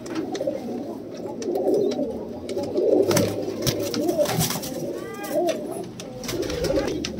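Pigeons coo in low, throaty rolling calls, several birds close together in a loft of high-flying breeds, with a steady murmur of cooing and faint rustling throughout.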